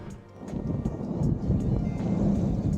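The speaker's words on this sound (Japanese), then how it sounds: "予報の通り断続的に雨が降っています。" Intermittent rain falls in rural Morocco, heard as a steady close patter and rumble with a few sharp drips or taps standing out above the wash.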